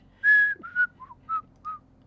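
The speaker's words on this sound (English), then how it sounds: "the whistling theme song there" The whistled theme of The Andy Griffith Show: a clear melody of five notes, the first held longest, then short descending and repeating phrases, bright and close.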